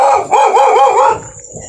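Several stray dogs bark along a village path, a quick burst of sharp, loud barks close by, then tapering off into quieter background sound.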